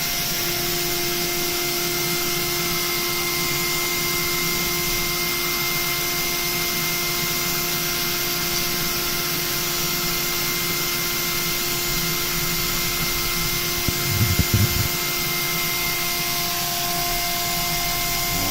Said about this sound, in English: There's tool 3, the 3 end mill again, same thing as the last side.